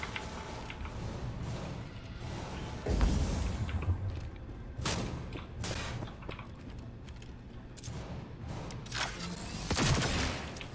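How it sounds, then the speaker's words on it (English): Rapid turret gunfire in Cyberpunk 2077, played on the hardest difficulty, with repeated bursts of shots and heavy low thumps under dense game noise that run through the whole stretch. "What's shooting me? Is there a turret?"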